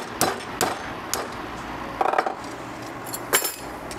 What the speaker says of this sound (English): Couple hammers, tapped her in.